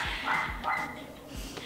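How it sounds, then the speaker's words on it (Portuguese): A dog barks in short, sharp bursts, about three loud yaps spread across a brief moment, heard close up with no talk over it. "Tem a parte do cachorro latindo"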